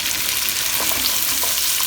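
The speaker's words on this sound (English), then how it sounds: "We sweat our carrots for a moment." Carrots sweat in a pot for a German stew, making a loud, continuous close-up sizzle with a few faint stirring touches and no talk.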